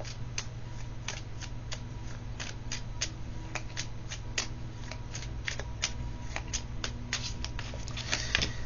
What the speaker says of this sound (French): Alors, on met une carte de chaque.